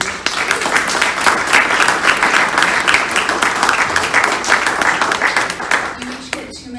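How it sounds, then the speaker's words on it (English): Sustained applause from a meeting audience, dense steady clapping filling the room for several seconds before tapering off near the end. "let's give them a round of applause for being here tonight."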